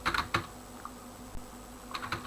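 Keys on a computer keyboard are tapped in short clusters of a few clicks, separated by pauses, close and fairly quiet.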